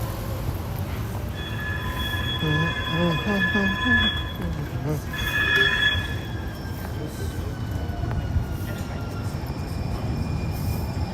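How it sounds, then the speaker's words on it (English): A train pulls in with a sustained metallic wheel squeal against the rails, a bright ringing that rises and fades twice over a steady rumble, with people talking throughout. "We got here just in time for the train to take us back home."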